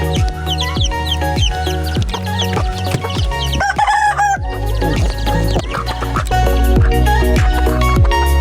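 Chickens cluck busily in a coop at morning feeding time while a rooster crows loudly partway through, with sharp repeated clucks and knocking sounds close by.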